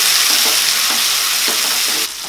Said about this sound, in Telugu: ఈ టమాటా ముక్కలను కూడా 1 నిమిషం ఫ్రై చేయండి